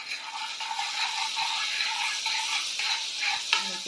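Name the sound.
butter melting and sizzling in a pan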